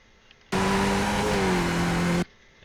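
A Skip Barber race car in the iRacing simulator shifts up into second gear, its engine a loud, steady mid-pitched drone with a slight dip in pitch as the gear changes, starting abruptly and cutting off cleanly after nearly two seconds.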